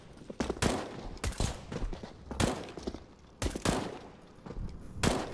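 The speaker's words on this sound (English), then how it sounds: "you must shoot a bullet hole in the floor and jump from bullet hole to bullet hole" Shotgun fire in Counter-Strike: Global Offensive rings out as several sharp, fairly quiet game blasts at irregular intervals, separated by fainter clatter and movement sounds, with no speech.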